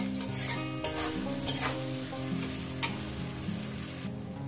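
Onions fry in a pan for chicken kosha, a steady close sizzle punctuated by several scraping strokes of a spoon stirring them.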